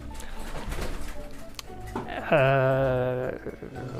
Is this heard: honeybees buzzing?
no